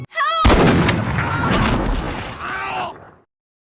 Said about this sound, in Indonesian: Tiba-tiba saja Guard pun muncul dan langsung menembak Emmett.